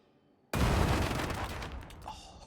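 Stun grenade going off in Darktide, a sudden loud blast after a half-second of quiet that settles into a dense, rumbling roar of gunfire and impacts, fading slowly.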